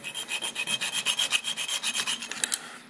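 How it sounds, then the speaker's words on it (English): A round file rasps steadily across a BMW clutch arm during weld prep, close and fairly loud, with quick repeated back-and-forth strokes in an even rhythm and no talking. "round files, because of the curvature, they actually cut really really fast"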